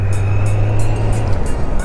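Kawasaki Z900 four-cylinder motorcycle engine running steadily at close range, a loud continuous drone with a smooth low hum that fades slightly partway through, no talking.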